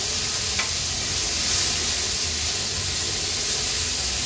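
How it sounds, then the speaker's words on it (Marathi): Finely chopped tomato stir-fried over a high flame in a pan of banana-flower sabzi: a loud, steady hissing sizzle with faint stirring scrapes and a single brief click near the start. "आता ह्यात आपण बारीक चिरलेला टोमॅटो ॲड करणार आहोत."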